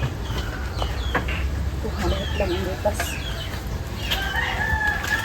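A mother hen with her chicks clucks close by, with scattered peeping and short calls over a low steady background rumble.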